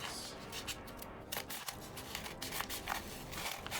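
Scissors snip through a package containing USB-C to USB 3.0 adapters, giving a run of close crackly cuts and rustling packaging with no talking.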